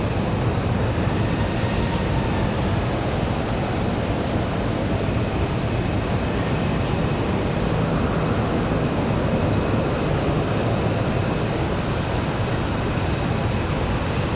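A JetBlue jet airliner departs Raleigh-Durham International Airport for JFK on a windy day, its engines a steady, loud broadband roar that holds for the whole stretch with wind noise mixed in.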